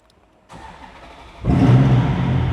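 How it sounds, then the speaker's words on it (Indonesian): A Ferrari 430 engine fires up with a sharp catch after a quiet moment, then settles into a loud, raspy idle that swells and stays steady close to the microphone. "Nah, sekarang kita akan hidupkan mesinnya. Kita akan panaskan sedikit."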